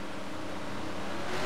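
Pack of racing trucks in a video game truck race at Daytona roaring steadily nearer, a continuous dense engine drone that builds slightly in loudness, with no talk.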